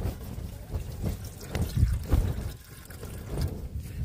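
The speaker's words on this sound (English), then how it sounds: "let me just measure. It's 250 mils of water." Water trickles and splashes into a cooking pot at a cold mountain wild camp as roughly 250 ml is poured, an uneven close liquid dribble with brief pauses and no talk.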